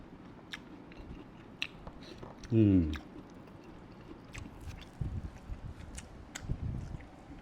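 Someone bites and chews raw petai gajah beans close to the microphone, producing scattered crunchy bites and chewing, with a brief vocal sound partway through and quiet background noise.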